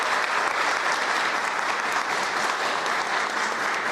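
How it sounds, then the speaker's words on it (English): Steady, sustained applause from a sizable audience at a ceremony honoring a judge, dense and even throughout with no voices standing out. "So a round of applause for that."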